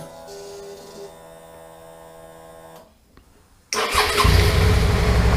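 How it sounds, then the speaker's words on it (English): A motorcycle fitted with heated grips: a steady electrical hum fades to a short near-silence, then the engine cranks and catches, settling into a loud, steady close-up idle. "So if I'm to start the bike up again."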